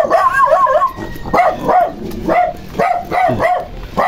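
Several hungry dogs left alone at a house bark and yip repeatedly in quick, close bursts, with some whining mixed between the barks.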